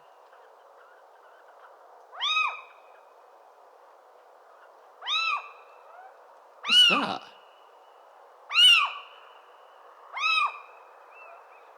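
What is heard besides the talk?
fox call, sounding like an angry owl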